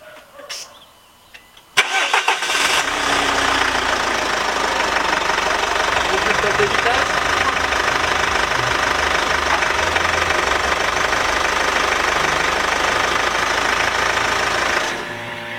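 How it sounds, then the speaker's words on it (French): A Renault Koleos engine cranks and catches after a brief quiet start, then settles into a steady, loud idle that runs on evenly until the end. "Donc la voiture démarre"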